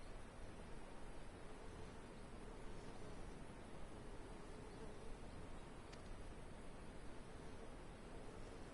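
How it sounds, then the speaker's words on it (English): Blood-seeking hornets in Final Fantasy XIV Endwalker give off a faint, steady insect buzz. It drones on evenly, with no pauses and no talking. "Oh, the blood-seeking hornets."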